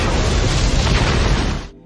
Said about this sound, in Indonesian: terjadi ledakan besar